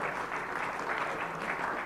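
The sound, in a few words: applause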